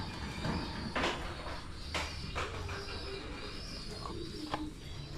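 Pet racing pigeons coo softly in their loft, faint low coos with a few sharp clatters against quiet background noise.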